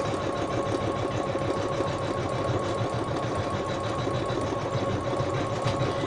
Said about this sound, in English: And now we're doing quite a heavy layout of stitching.